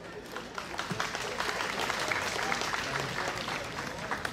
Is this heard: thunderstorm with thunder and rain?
no